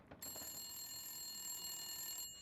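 A rotary phone rings inside the video game The Long Dark: a continuous bright metallic bell trill, moderately close, that runs for about two seconds and then stops.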